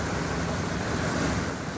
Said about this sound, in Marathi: पुलावून पाणी जात आहे